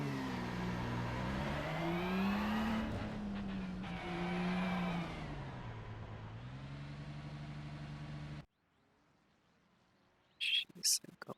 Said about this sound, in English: just do a really quick lap, see how those engine sounds are